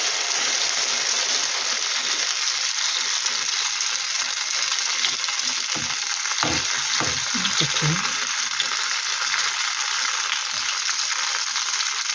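Hot oil sizzling and crackling in a very hot frying pan for zucchini and potato fritters, a continuous bright hiss with a few clinks and scraping sounds in the middle.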